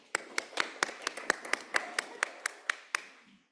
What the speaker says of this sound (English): So I'd like to give them a round of applause for their hard work